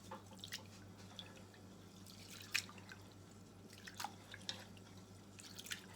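Water dripping from freshly rinsed rice, sparse small close drips and trickles scattered over a low steady background hum, no talking.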